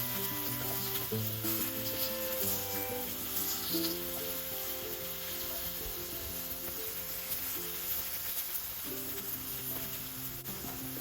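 Zucchini slices frying in a pan, a steady close hiss and sizzle of oil with light scraping as pieces are turned, continuous with no talk.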